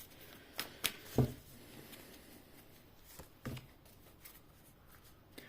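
Tarot cards are shuffled by hand, soft quiet riffles and a few crisp slaps and taps spread across a few seconds, with no talk.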